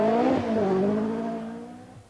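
Per Eklund's four-wheel-drive Audi Quattro rally car on a stage of the 1985 Lombard RAC Rally: its engine note climbs and falls sharply as it passes close, then fades quickly into the distance.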